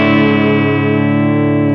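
A loud, sustained guitar chord shimmers through a Walrus Audio Julia chorus pedal with reverb, ringing evenly for under two seconds with no talking.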